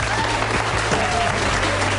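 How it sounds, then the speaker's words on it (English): Guests at a wedding ceremony break into applause for the newly married couple, a dense, even clapping from a crowd that continues steadily throughout. "I think they deserve a round of applause."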